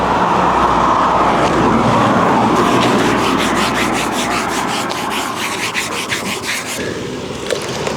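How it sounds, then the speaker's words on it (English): Van wheel scrubbed with a degreasing cleaner, a loud, steady brushing rub that turns into quick rhythmic back-and-forth strokes, close up with no talking. "It says give it a scrub. This is supposed to remove grease, residue, silicone."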